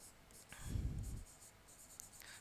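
Chalk or marker scratches across a lecture-room board in one short burst of writing, with quiet taps after it and no talking.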